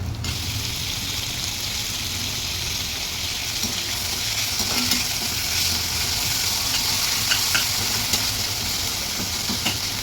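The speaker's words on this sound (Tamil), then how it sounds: "நான் இப்போது சீரகமும் கடுகும் போட்டு வெங்காயம் போட்டு தாளிச்சிருக்கேன்" Cumin, mustard seeds and chopped onion sizzle steadily in hot oil as a tempering for a brinjal kara kuzhambu, a continuous close frying hiss with occasional soft stirring scrapes and no talking.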